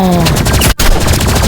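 Rapid gunfire in the Roblox game Rivals, a dense, loud stream of shots in a continuous burst with a brief dropout midway.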